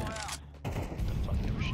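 Gunfire in Counter-Strike 2: a loud burst of close shots fills the short moment, with a voice talking over the shooting.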